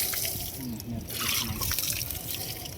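Water is poured and splashes steadily into a bucket during household cleaning, a continuous close rush and trickle with voices talking faintly underneath.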